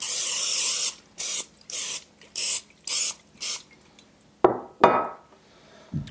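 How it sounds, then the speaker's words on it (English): Cooking spray hisses into a loaf pan in a series of five short, loud bursts with brief pauses between them, followed by a couple of clinks and rattles of the pan. "Spray our loaf pan."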